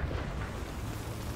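An artillery explosion in the tank combat game War Thunder, a deep rolling boom with a long low rumble that fills the moment and slowly fades.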